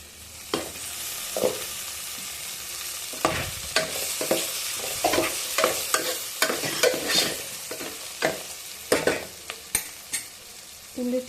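Upma ingredients with turmeric and salt sizzling in a pan as a spoon stirs them, soft steady frying hiss broken by irregular scraping clicks and taps of the spoon, close and fairly quiet.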